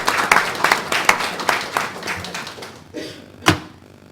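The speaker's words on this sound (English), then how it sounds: "So you guys deserve a round of applause." Scattered hand claps from a small group, irregular and fading out, ending with one louder thump.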